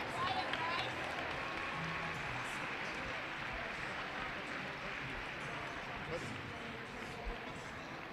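A gym crowd at a Lakin Broncs basketball game gives dense, sustained applause for the 1,000 point scorers, a steady wash of clapping and crowd noise with talk mixed in.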